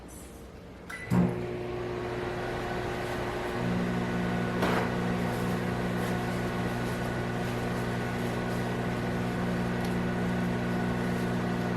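A microwave oven softening butter hums steadily with a low electrical drone, starting up after a brief click and rising in level partway through, running alone for the rest of the clip.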